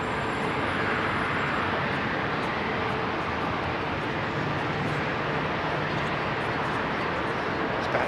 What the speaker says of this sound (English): Triple 7 taxiing out now